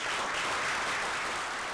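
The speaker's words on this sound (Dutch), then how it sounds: "dat was dus inderdaad het grote applaus in Den Haag" Loud applause in The Hague, a steady dense wash of many hands clapping, sustained for a short burst.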